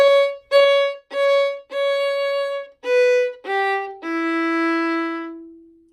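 A violin plays the opening phrase of Cielito Lindo alone: six short, clearly separated bowed notes, then a longer lower note held and fading out, close and clean.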